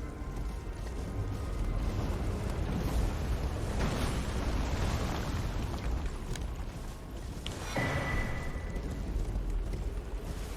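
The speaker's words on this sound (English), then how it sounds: "Because we've got damn catapults firing at us." Catapults hurl projectiles in Elden Ring near the lift of Dectus, an army encampment, giving a dense, continuous roar of rumbling booms with heavier bursts swelling around the fourth and eighth seconds.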